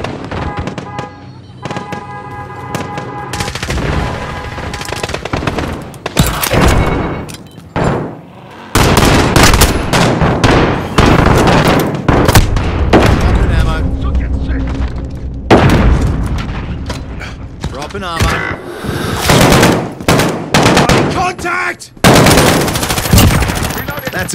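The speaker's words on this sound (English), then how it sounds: "They're shooting at me!" Rapid bursts of automatic gunfire and explosive booms from a Call of Duty: Modern Warfare Spec Ops mission, loud and continuous with brief pauses, while a player occasionally shouts over the shooting.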